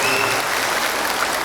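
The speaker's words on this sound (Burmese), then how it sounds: "ကျေးဇူးတင်တဲ့အနေနဲ့လက်ခုပ်ဩဘာတိကျရအောင်" Audience at a Chin cultural festival in Singapore applauds in a dense, continuous wash of many hands clapping, steady and fairly loud throughout.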